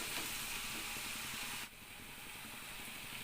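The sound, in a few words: fenugreek seeds frying in a pan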